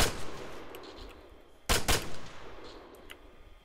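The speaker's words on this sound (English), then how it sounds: "Be careful, they're shooting something to the left." Gunfire in the Arma 3 military video game: a couple of sharp, close shots crack in quick succession midway through, with fainter distant pops scattered around them.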